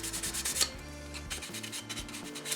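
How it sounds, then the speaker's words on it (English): Fine 400 grit sandpaper rubs over the plastic shell of a toy blaster, a soft quick back-and-forth scratching in close, steady repeated strokes with no talking. "I switched to a piece of 400 grit sandpaper."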